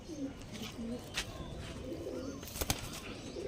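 Large pigeons, not young chicks, give soft low coos in short repeated phrases, fairly close, with a few sharp clicks and bumps mixed in.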